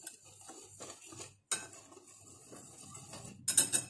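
A utensil stirring tapioca flour batter with salt, vanilla and sugar in a bowl, quiet repeated scrapes and light clinks against the side, with a sharper knock midway and a few clinks at the end.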